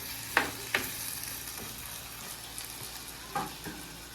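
Spices sauté in a clay pot for a spicy Sri Lankan prawn curry, with a soft, steady sizzle and a few sharp scrapes and taps from stirring, fairly quiet.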